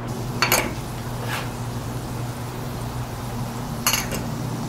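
Curry powder, amchar masala and geera are mixed in an Instant Pot, with a few brief spoon clinks against the metal pot over a steady low hum.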